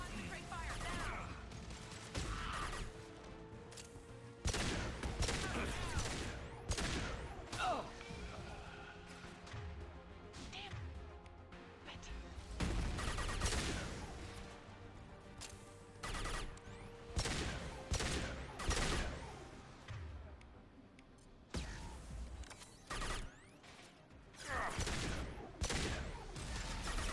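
Rapid gunfire and weapon bursts erupt in repeated volleys during a combat sequence in the video game Mass Effect 2, loud and dense, with crashes and impacts in between.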